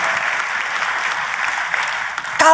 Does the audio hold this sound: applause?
yes